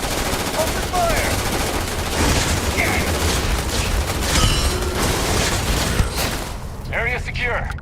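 Rapid bursts of gunfire from a sci-fi firefight in the video game Starfield, loud and dense over a rumbling battle backdrop, with shouted voices and radio-style chatter mixed in.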